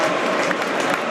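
Home fans at a roller hockey match in Sandrigo cheering, a dense steady wash of crowd noise and applause at close, loud level throughout the brief moment.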